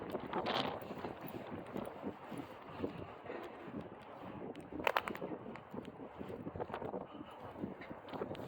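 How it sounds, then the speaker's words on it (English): Gusty wind buffets the microphone on a dog walk, a low, fairly quiet rumbling whoosh that rises and falls with a few sharper gusts and no speech. "it's a windy one."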